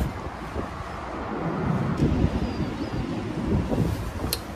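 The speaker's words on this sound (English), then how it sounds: "I think it's a little too windy outside for my liking" Wind blows outside an open door at the Holiday Inn Birmingham hotel, giving a continuous blustery low rumble that swells and eases slightly, with no voices.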